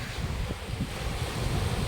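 Steady rumbling surf and wind noise from open water, continuous and fairly loud with no voices.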